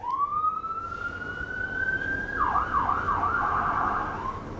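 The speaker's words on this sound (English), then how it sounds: "sirens." An emergency vehicle siren passes outside, a loud rising wail that holds steady and then shifts into a rapid yelp, with no talking.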